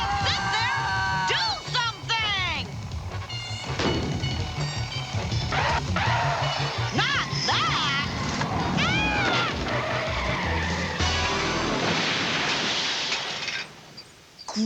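Cartoon vehicle with failed brakes skidding loudly, with squealing tire screeches and crash noises mixed over busy music and frantic voices throughout.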